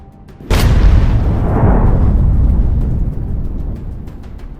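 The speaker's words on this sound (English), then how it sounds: "A second Kornet missile finally brings the vehicle to a halt." A Kornet anti-tank missile strikes a Bradley vehicle in combat: one sudden, loud close blast with a long rumbling decay that fades over several seconds.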